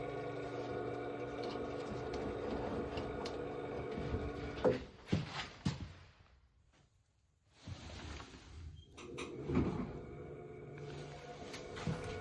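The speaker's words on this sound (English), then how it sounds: "That's the sound of the motor spinning," Washing machine motor spinning while the barrel stays locked up, a low steady mechanical hum and rattling drone with a few clunks, dropping out briefly mid-way before resuming, close and quiet.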